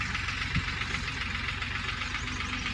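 A tractor engine runs steadily while forming raised beds in a field being prepared for papaya planting. Its knocking, idling drone is continuous and fairly close, with no talk.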